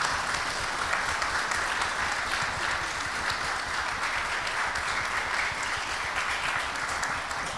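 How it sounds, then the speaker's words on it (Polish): Sustained applause from a concert audience, steady and dense clapping throughout with no voices, a church concert in Luzino. "Raz jeszcze księdzu proboszczowi, dla niego oklaski za zorganizowanie tego koncertu."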